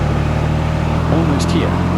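A car drives along a road in Greenville, Wisconsin, with a steady, close engine and road hum filling the cabin and a brief voice partway through.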